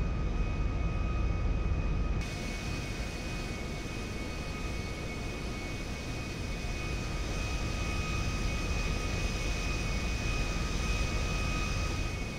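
The jet engines of a Boeing 727 in a modded Grand Theft Auto V game give a steady, broad, even roar with a faint high whine on top, continuous and unchanging throughout with no talking.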